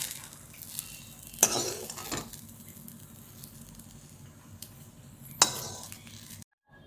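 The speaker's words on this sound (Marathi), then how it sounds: "मांदाच्या कडेला गव्हात ज्वारीत तर छान मी भाजून घेते त्या पावत्या" Field beans dry-roasting in a pan, a faint low sizzle and rustle with a couple of sharper scrapes and clinks as they are stirred.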